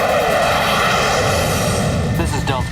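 Two F-15 fighter jets roar past in a continuous loud rush of engine noise under a disaster-film scene, the sound filling the whole moment with a faint shift near the end.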